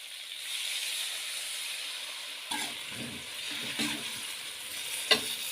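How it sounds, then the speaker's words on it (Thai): Cauliflower is stir-fried in a hot pan with sugar, a steady loud sizzle broken by several scraping stirs of the spatula. "ตามด้วยน้ำตาล ผัดต่อไปเรื่อยๆจนผักใกล้จะสุกเติมน้ำลงไปเล็กน้อย"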